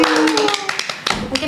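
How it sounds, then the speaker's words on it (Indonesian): A few people on a podcast set give a short burst of hand clapping, crisp, close taps lasting about a second, with a voice briefly over it. "Tepuk tangannya dong."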